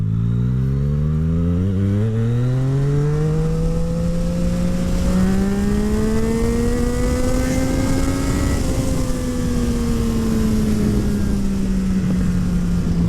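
A Yamaha MT-09 motorcycle with a full Akrapovic exhaust accelerates in second gear at partial throttle, its engine note climbing steadily in pitch, then easing off near the end. The sound is loud, close and continuous, with no talking.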